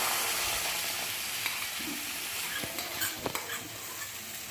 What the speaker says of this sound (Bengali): সম্পূর্ণ ব্যাটারটাই আমি তাওয়ার মধ্যে ঢেলে দিচ্ছি